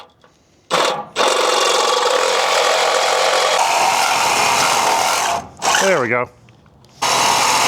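A power saw blade cuts lengthwise along a marked line on the steel body of a GMC CCKW military truck, a loud, steady grinding whine running for several seconds, briefly stopping and restarting, with a short spoken remark in a pause.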